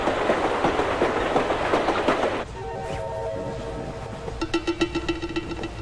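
A moving passenger train heard from on board: loud rhythmic clickety-clack at first, easing to a lower rumble, then the wheel clacks return in a steady beat.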